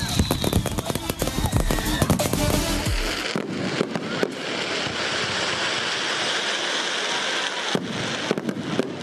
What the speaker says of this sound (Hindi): दिवाली के दिन लोग पार्कों में और स्ट्रीट पर ग्रुप में इकट्ठा होकर पटाखे छोड़ते हैं